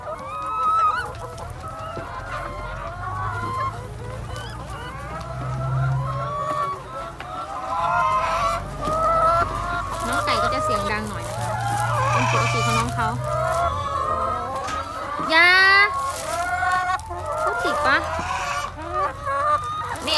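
A flock of egg-laying hens clucks steadily and busily close by in a backyard coop, many overlapping calls running throughout, with occasional louder squawks and a person talking now and then.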